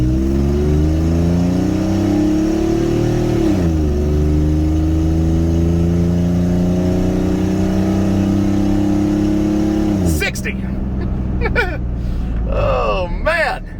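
An old Chevy Silverado pickup engine revs hard and climbs in pitch through several gear shifts, loud and close, then drops away into rattling cabin noise.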